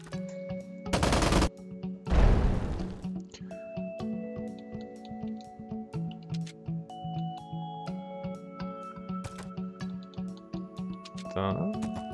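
Artillery attack in Advance Wars, two heavy booming blasts early followed by a series of sharp clicks and short game tones, with quiet stretches between.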